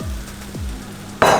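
Eggs and vegetables sizzling in a pan, with two short scraping stirs and then a louder burst of sizzling as more food goes into the hot pan.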